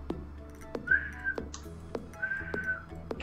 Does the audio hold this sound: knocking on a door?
no